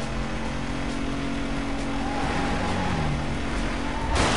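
A car engine roaring at high revs while racing through traffic in Need For Speed Most Wanted, a steady loud drone with a sharp surge near the end, no voices.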